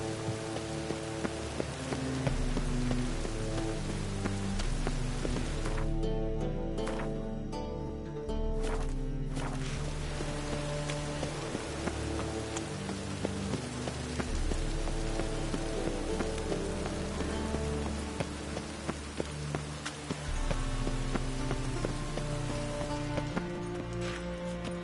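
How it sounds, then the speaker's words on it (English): Steady rainfall in The Witcher game patters continuously beneath layered musical tones and ambience, a soft even wash persisting the whole time with occasional brief quieter gaps. "Rain was coming."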